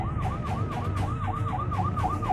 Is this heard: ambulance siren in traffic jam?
yes